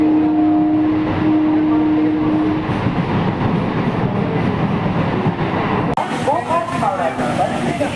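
A passenger train from Goghat toward Arambag rumbles steadily along with continuous rail noise and clatter, a tone sounding briefly at the start and voices chattering faintly in the carriage.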